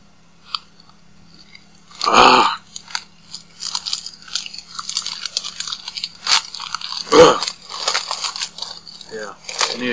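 A piece of chocolate is bitten with a loud crunch, then chewed with a second crisp bite and smaller crunches close to the mic.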